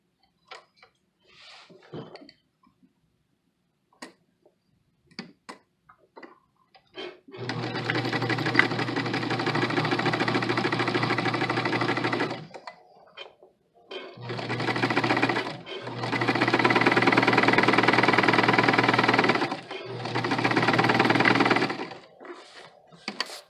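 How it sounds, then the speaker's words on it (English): A sewing machine top stitches along a seam with a 1/4 inch allowance on a Simplicity 8519 garment, running in several loud continuous bursts separated by short pauses and faint handling clicks. "so we're going to just top stitch along this line"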